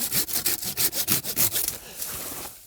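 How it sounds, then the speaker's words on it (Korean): A handsaw cutting a tree branch during pruning, heard as around ten fast, evenly spaced rasping strokes up close, trailing off into quieter scraping. "이제 톱질을 하면서 크기도 줄이는 거죠."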